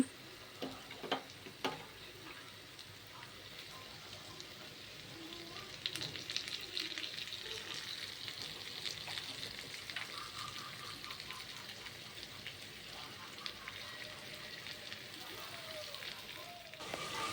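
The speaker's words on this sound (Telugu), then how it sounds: "మనం తీసుకున్న కొత్తిమీర, కరివేపాకు కూడా బాండీలోకి వేసి" Coriander and curry leaves frying in hot oil in a pan for egg fried rice, a steady soft sizzle and crackle with occasional ticks and stirring clinks. A voice talks quietly over it.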